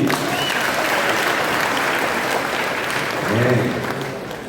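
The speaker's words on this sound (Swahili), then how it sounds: "Kanisa apigeni makofi." A church congregation claps in a dense, sustained round of applause, loud and continuous, with a voice briefly rising over it near the end.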